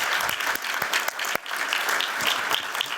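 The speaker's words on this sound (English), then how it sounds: "So a big round of applause for Clark and Christine." A summit audience at a housing innovation prize event breaks into a sustained round of applause, dense, steady clapping from many hands filling the room for the whole stretch.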